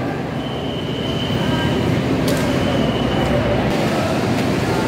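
A KRL commuter train rumbles through Pasar Senen station in Jakarta, a steady close rail roar with faint wheel squeal and scattered clicks.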